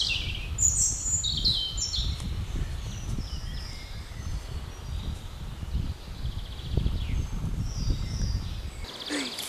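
Wild birds sing and chirp in a forest in Piatra Craiului, with scattered high calls and twitters over a steady low rumble of wind or rustling, fairly distant and moderately quiet throughout.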